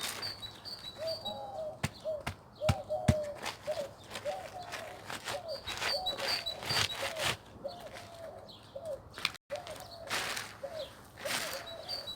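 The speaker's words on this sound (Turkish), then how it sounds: "Kuşun sesi, horozların sesi" Birds call and chirp repeatedly in short tuneful phrases, with roosters among them, mixed with sharp clicks and snaps nearby, against a quiet outdoor background.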